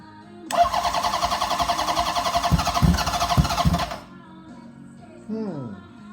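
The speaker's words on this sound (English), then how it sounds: "This is the first pop. No choke, no throttle." A Honda CB750 motorcycle engine turns over and fires in a loud, rapid sputtering burst, run with no choke and no throttle, for about three and a half seconds before cutting out, then a brief quieter whir follows.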